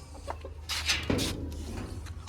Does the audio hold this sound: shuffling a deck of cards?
no